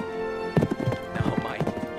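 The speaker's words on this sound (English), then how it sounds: "Monte Carlo is a 6-year-old Hanoverian gelding with a championship pedigree. So far, she's riding this course perfectly." A six-year-old Hanoverian gelding works a show-jumping course at a riding competition, its hooves beating an uneven run of thuds and clops, with a brief whinny and voices faintly underneath.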